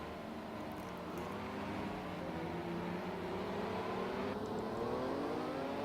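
The turbocharged engine of a Group C Porsche 962c racing at Monza in Project CARS 2 drones steadily under throttle, its pitch gradually rising and falling with a faint whine. No voices are heard.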